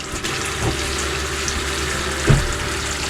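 Water rushes and gurgles steadily through an RV toilet as it flushes, with a brief louder splash partway through.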